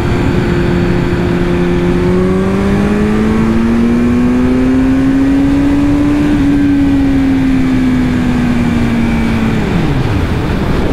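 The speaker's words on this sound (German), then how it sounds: "obenrum dreht der Motor einfach nur noch hoch" Kawasaki Z900 motorcycle engine revving steadily higher, a loud close whine climbing in pitch over several seconds before dropping off sharply near the end, with no talk.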